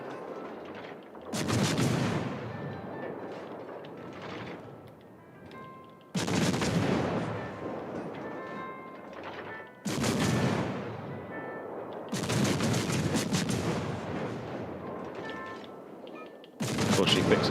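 Battleship-style main guns of the warship Alaska firing in a naval combat game, several loud booming salvos every few seconds, each sharp blast rolling off into a long decaying rumble, with a voice heard faintly between.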